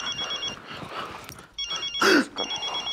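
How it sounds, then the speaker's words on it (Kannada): A telephone rings in a home in repeated electronic bursts, pausing briefly, while a person's voice cuts in between the rings. "ಫೋನ್"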